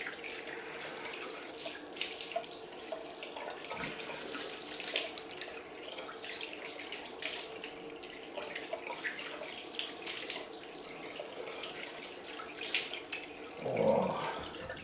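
Tap water runs steadily for a cold rinse after a head shave, a faint continuous splashing hiss with a small stir of movement near the end and no speech.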